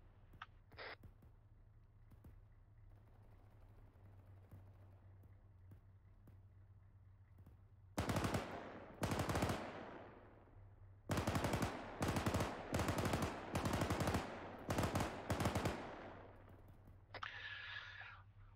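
Gunfire from a tank military video game, BOOS MK3: after a quiet stretch of low engine rumble, loud sustained machine-gun bursts ring out in several long strings, close and harsh.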